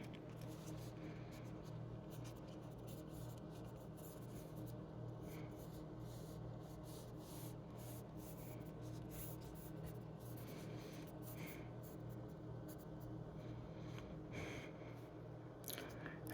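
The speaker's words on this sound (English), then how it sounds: "now we're going to draw the fire" Pencil scratching steadily across paper while drawing fire for a Ghost Rider sketch, a soft continuous scribbling texture close to the mic, with faint room noise beneath.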